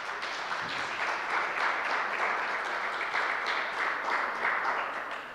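An audience claps in a sustained round of applause, a dense, even patter of many hands at moderate volume that holds steady throughout without cheering or speech.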